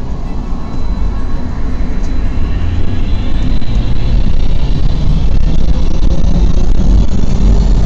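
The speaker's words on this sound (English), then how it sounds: "Please hold on. This train is departing." Steady low rumble of an airport train at Dallas/Fort Worth International Airport departing and gathering speed, a continuous heavy mechanical drone with hiss on top, no voices.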